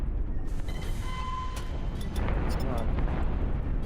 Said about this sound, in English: I think I hit him with a torpedo.